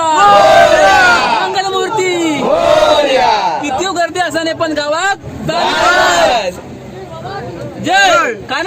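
A packed train of passengers at Dadar, bound for the Konkan for Ganpati, is filled with loud, close, rhythmic group chanting and shouting voices that swell and fade in waves.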